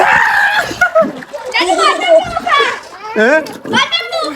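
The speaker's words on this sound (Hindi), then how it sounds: "बच्चे यहाँ पे नहा रहे हैं" Children shout and chatter loudly up close while playing in cool water on a hot day, their excited voices dominating, with faint splashing mixed beneath the talk.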